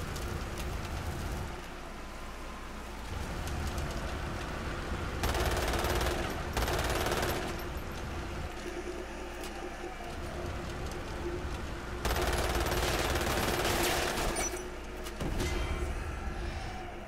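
Rapid gunfire bursts from the online shooter Umbrella Corps, loud sharp volleys recurring across the stretch with a busy game background between them.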